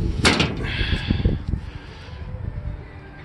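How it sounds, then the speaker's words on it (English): The tailgate of a 1969 Ford F250 Custom Cab Camper Special swings open with a metallic creak and clunk, followed by a few lighter rattles and knocks up close. "Tailgate opens without issues"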